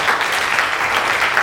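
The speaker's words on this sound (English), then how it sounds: "So let's give it a round of applause." Loud, close applause at a school outreach assembly, with many hands clapping in a steady, dense burst that lasts about a second and a half.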